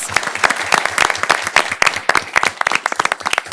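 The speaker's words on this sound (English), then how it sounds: "Let's give them another round of applause." A city council meeting audience gives award recipients another round of applause, dense and lively clapping from many hands, close and continuous with crisp individual claps throughout.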